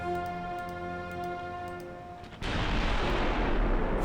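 A naval gun salvo fires in the Ultimate Admiral Dreadnoughts warship game: a sustained humming tone gives way to a sudden loud, broad booming roar that carries on to the end.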